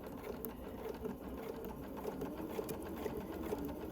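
A sewing machine runs at an even pace, stitching quilt block pieces for a 1930s sampler spool block, a quiet continuous whirring hum with faint regular ticking and no voices.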